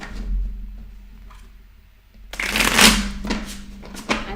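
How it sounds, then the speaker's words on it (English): Tarot cards being shuffled by hand during a live reading, a few faint rustles first, then a louder run of riffling and slapping card sounds with quick bursts and a final snap, close and without talk. "Do a big shuffle."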